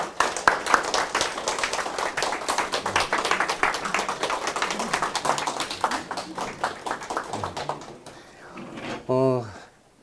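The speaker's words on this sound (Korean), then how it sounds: "박경 원장님을 한번 뜨거운 박수로 모셔보겠습니다" Warm applause from an audience welcoming director Park Kyung at a talk-concert; brisk, dense clapping for about eight seconds, tapering off before a voice speaks.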